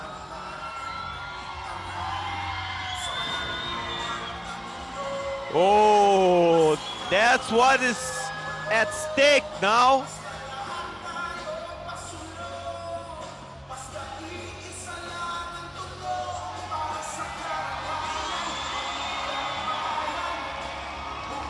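An arena crowd at a UAE Warriors MMA event cheers, whoops and shouts in bursts as a fighter takes a walk around the arena. Commentators talk over the steady crowd roar throughout.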